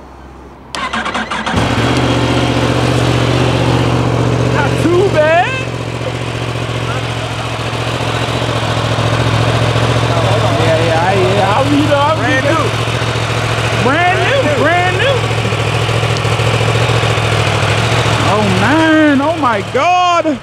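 A 2024 Yamaha R1 sport motorcycle with stock exhaust starts and settles into a loud, steady idle with a low throbbing drone, while people talk and call out over it.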